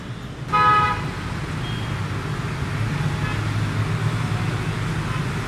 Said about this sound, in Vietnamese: Từ trước giờ chưa bao giờ mà kẹt xe ô tô nhiều như này.